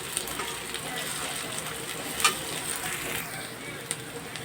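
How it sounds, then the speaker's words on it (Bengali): Chopped onions frying lightly in a pan, giving a faint, steady sizzle with soft crackles and one brief louder tick partway through. "পেঁয়াজগুলো একটু ভেজে নেব, হালকা ভাজবো, বেশি ভাজবো না,"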